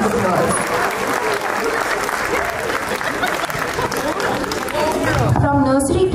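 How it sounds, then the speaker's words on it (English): Loud, sustained applause fills a school annual day hall as an audience claps continuously for an award winner, with crowd murmur beneath; the clapping tapers near the end as a voice starts over the PA. "Let's congratulate her with a huge round of applause."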